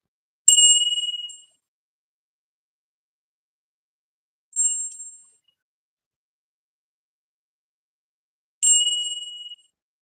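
A bell gives three clear, bright rings spaced about four seconds apart, each ding decaying quickly into silence.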